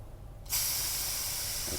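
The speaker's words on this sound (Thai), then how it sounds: "จะเอาน้ำสบู่ฉีดไปที่ตัวโบออฟนะ" Soapy water sprays onto a diesel blow-off valve during a leak test. After a half-second of low hum, a loud, steady spray hiss starts abruptly and holds close and unbroken to the end.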